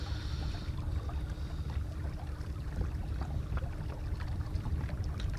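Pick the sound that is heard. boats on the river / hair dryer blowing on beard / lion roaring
boats on the river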